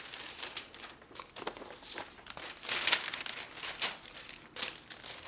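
The paper inner sleeve of a vinyl LP crinkles and rustles steadily up close while it is handled, with no talking.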